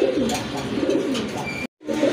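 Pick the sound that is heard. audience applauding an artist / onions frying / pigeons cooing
pigeons cooing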